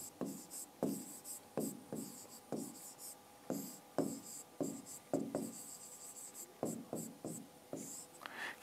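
Numbers, prime numbers for a school maths lesson, are written on a board in a steady run of short, scratchy strokes, each with a sharp tap at the start, close and clear with no talking over them.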